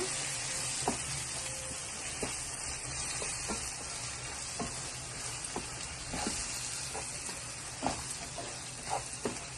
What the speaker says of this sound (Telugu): కొంచెం సాల్ట్ వేసుకొని కొంచెం సేపు వేగాక